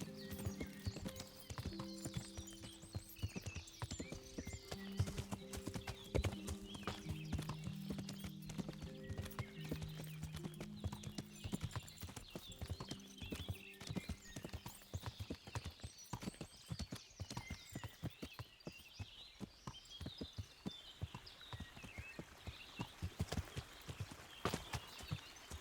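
Horse hooves clop steadily through thick woods in Kingdom Come: Deliverance, a continuous rhythmic walking beat with a whinny and soft ambient music underneath, fairly quiet overall.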